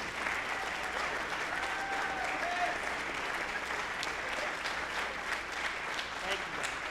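An audience at a spring high school band concert applauds the seniors, a dense sustained clapping that stays even throughout, with faint voices mixed in.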